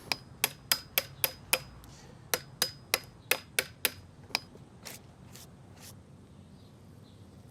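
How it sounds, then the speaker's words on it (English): Sharp, close knocks as a chisel is struck to flick leftover bits off a timber garden sleeper, a dozen or so crisp taps in a quick, uneven rhythm that thin out and soften toward the end. "when you're using your chisel to huck out any little bits that are left on there"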